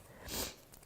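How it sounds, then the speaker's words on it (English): A single short sniff through the nose, soft and close, with a faint breathy rush lasting under a second. "I'm sniffing again"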